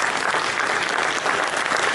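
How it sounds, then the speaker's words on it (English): An audience applauds a team at a business leadership event, steady dense clapping from many hands filling the room without pause. "I want to get a round of applause for them."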